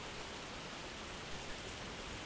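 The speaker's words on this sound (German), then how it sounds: "Der Regen wird wohl noch eine Weile andauern." Steady rain in a horror video game pours as a dense, even hiss with no pauses, filling the whole stretch without any talk.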